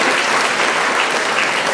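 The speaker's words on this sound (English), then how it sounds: "One more big round of applause." Sustained applause from an audience at a chamber of commerce business of the year awards ceremony, a dense, even wash of clapping filling the whole stretch with no talk over it.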